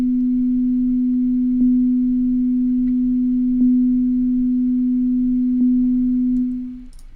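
Steady pure sine tone at about 250.56 Hz, held constant and loud for around seven seconds with faint periodic clicks before it fades out at the end.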